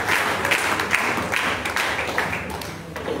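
Church congregation clapping and cheering for Jesus Christ at a prophetic worship meeting, a steady, moderately loud wash of applause that holds throughout with scattered sharp claps.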